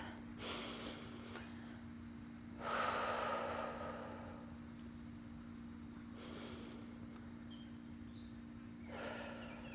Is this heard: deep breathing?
yes